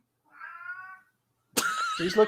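A cat gives a clear drawn-out meow close to the microphone, and after a short pause a second, louder and harsher yowl follows in a quiet room.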